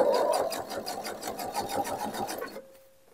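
A sewing machine runs a narrow seam along the edge of fabric for a bisque tote bag, its rapid steady needle chatter close and even before stopping abruptly, leaving a faint hum.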